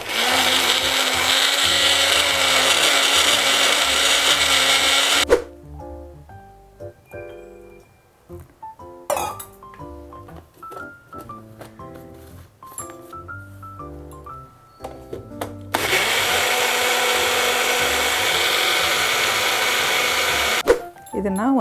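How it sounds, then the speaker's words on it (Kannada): A kitchen mixer grinder blends neem and peepal leaves with water, roaring loudly at first, pausing for several seconds of quieter clinks and handling noises, then whirring loudly again for a long final burst. "ಸ್ವಲ್ಪ ನೀರು ಹೀಗೆ ಆ್ಯಡ್ ಮಾಡಿ ಇದನ್ನ ಚೆನ್ನಾಗಿ ಮಿಕ್ಸಿ ಮಾಡ್ಕೊಳ್ಳಿ."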